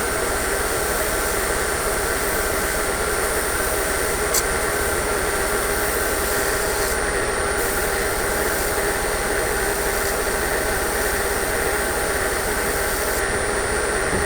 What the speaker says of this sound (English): Now we're going to turn the lathe on.